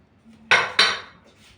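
Two sharp knife chops land on a cutting board close by as onions are chopped for manti, a short pause between them, then quiet.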